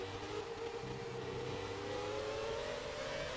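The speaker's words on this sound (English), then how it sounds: "Like the engine roaring, the upshift, the downshift, it's just incredible." A V10 Formula 1 car engine in the racing game F1 2017 whines faintly as it climbs steadily in pitch, a thin, distant-sounding drone with no talking.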